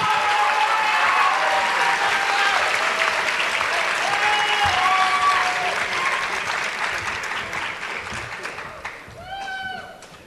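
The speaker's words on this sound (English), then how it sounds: "Please join me in a round of applause for Delta Company." Audience applause at a high school JROTC awards ceremony, sustained dense clapping from a large crowd in a hall, gradually fading near the end as voices come through.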